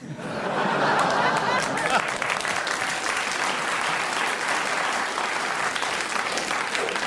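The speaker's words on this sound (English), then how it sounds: "the audience round of applause confirms that you should have the subject" Studio audience of a radio panel game applauding, a full dense round of clapping that swells quickly and holds steady, with a few chuckles mixed in.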